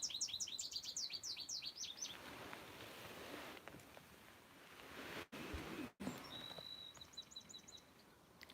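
House finches and a goldfinch sing in the open on a May morning, bright rapid chirping phrases at the start and a thinner trill later, moderately near over steady outdoor background noise.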